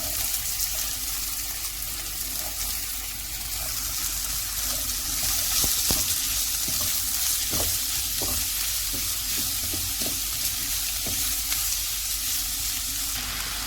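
Half an onion fries in a pan for masala stuffed bitter gourd, a loud, continuous sizzle broken by scattered stirring clacks near the end.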